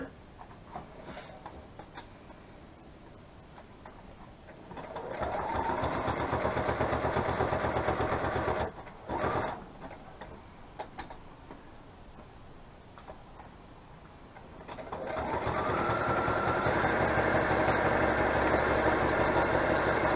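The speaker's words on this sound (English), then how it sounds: "It doesn't take that long with this sewing machine," A sewing machine motor whirs in two sustained bursts of steady stitching, separated by a quieter pause with light handling clicks.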